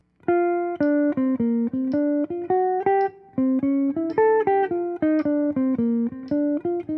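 A jazz lick from a solo, played as a run of clean, evenly articulated synthesized horn-like notes in a steady swinging rhythm, close and alone without voices.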